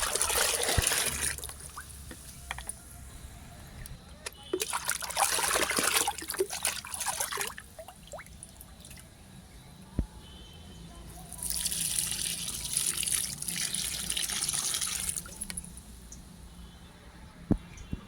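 Liquid fertilizer is poured from a mug onto potted plants, giving three separate splashing trickles of a few seconds each, separated by quieter gaps with faint drips and handling noises.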